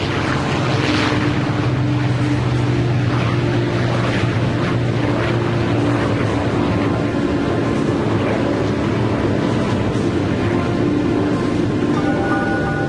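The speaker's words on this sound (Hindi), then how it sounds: "B-29 सुपर फोर्ट्रेस बॉक्सकार ने उड़ान भरी।" The B-29 Superfortress bomber Bockscar taking off, a loud, steady drone of propeller engines filling the whole stretch without a break.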